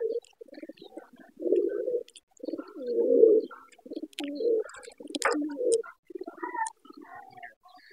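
Pigeons raising two chicks feed close by, deep throaty coos and gurgling bursts alternating with soft chirps and pecking clicks in an irregular rhythm.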